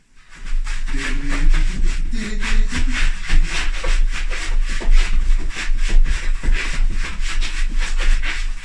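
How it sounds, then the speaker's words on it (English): Sand is rubbed and brushed into a carpet in steady repeated strokes, a rhythmic close scrubbing that runs continuously and fairly loud, with a brief voice near the start. "We just need to pop the sand into the carpet."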